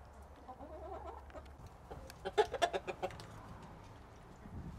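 Chickens and a rooster on a farm in Cluj, Romania, with a cluster of clucking and short calls bunched in the middle over a low background hum, then quieter farmyard ambience.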